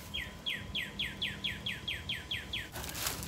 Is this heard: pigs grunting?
no